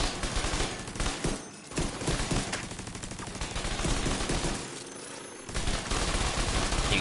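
Rapid automatic gunfire from the video game Division 2, loud bursts of shots in quick succession with brief pauses between volleys.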